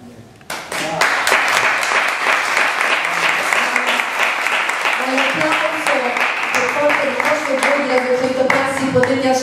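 Theatre audience at the Teatro dei Conciatori in Rome breaks into sustained applause, starting abruptly after a brief lull and continuing steadily and loudly, with a voice talking over the clapping throughout.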